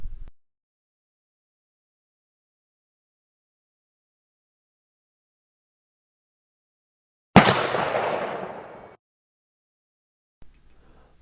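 A single sharp rifle shot from a Remington 700 Police cracks out loudly at close range and decays over about a second and a half, with a faint blip before it and another after, otherwise silence.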